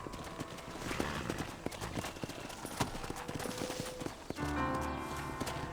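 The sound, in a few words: horse hooves clip-clop in Red Dead Redemption video game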